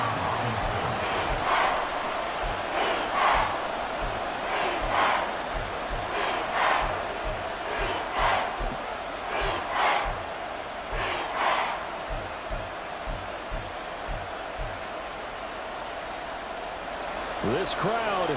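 A stadium crowd in the NCAA Football 14 video game roars continuously near a goal line, loud and steady, with bursts of cheering under a commentator's play-by-play talk.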